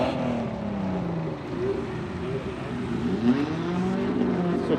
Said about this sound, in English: people are in their car and driving it a bit.